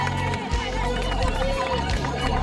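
A big crowd roars steadily across an open outdoor course at the 2005 World Cross Country Championships in France as runners near the final kilometre, a dense, continuous wash of cheering and chatter that never drops away.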